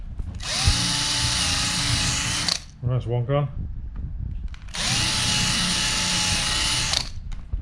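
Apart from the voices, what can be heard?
power drill drilling out plastic heat stakes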